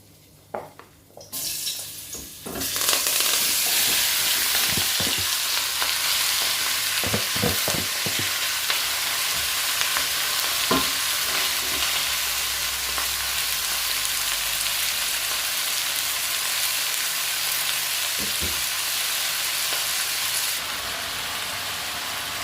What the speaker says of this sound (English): While the pork is browning off